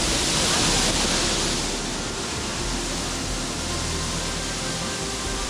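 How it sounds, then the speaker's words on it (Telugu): Soochipara waterfall in Wayanad, Kerala, falling with great force: a dense, unbroken roar of water, loud and close throughout. "నాకు వాటర్ ఫాల్ కనిపిస్తుంది. చాలా ఫోర్స్గానే ఉంది."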